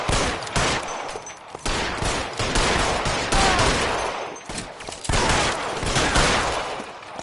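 Rapid gunfire erupts in the remastered detective game LA Noire, bursts of loud automatic and repeated shots in clustered volleys with brief gaps between them.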